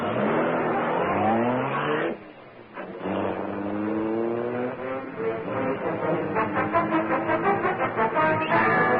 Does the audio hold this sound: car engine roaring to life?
yes